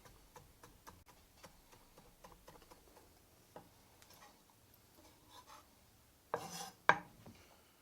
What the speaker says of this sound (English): What I'm going to do is chop them as finely as possible